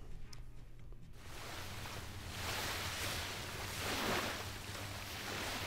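A water sound processed with iZotope Stutter Edit starts quietly, then swells into a loud, rushing wash like surf. It surges in waves and cuts off abruptly at the end.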